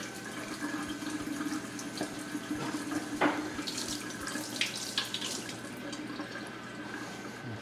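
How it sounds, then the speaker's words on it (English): Tap water runs steadily into a sink over freeze-dried French toast being soaked, a continuous splashing stream with a few louder drips and splashes, close and moderately quiet, with no talking. "So I'm going to get them soggy under some running water or just dip them in water."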